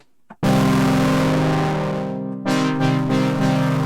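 An Arturia MiniFreak synthesizer plays a sustained, buzzing note pushed through heavy distortion, harsh and dense, with a brief blip before it starts and a fresh attack partway through, loud and alone.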